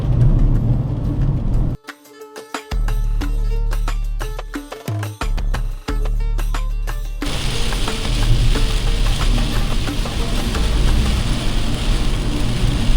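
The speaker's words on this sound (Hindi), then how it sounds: "बारिश अचानक से तेज़ हो गई है" Heavy rain drums on a car driving along highway 347C in India, with engine and road noise that break up unevenly at first and then settle into a steady loud wash of rain.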